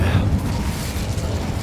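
The Incendio fire spell bursts out in Hogwarts Legacy as a loud, close, rumbling whoosh of flame that holds steady for a moment before easing off.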